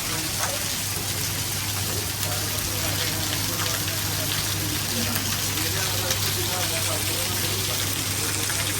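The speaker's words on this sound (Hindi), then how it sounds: "बारिश में दिखा दूं, बारिश बड़ी तेज हो रही है।" Heavy rain pours down in a dense, constant roar of drops, with a low steady hum running underneath.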